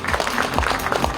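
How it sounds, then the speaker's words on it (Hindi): An audience at a stage event on a January 26 occasion claps loudly and continuously, a dense, steady roar of applause from a crowd. "एक बार जोरदार तालियां चाहिए"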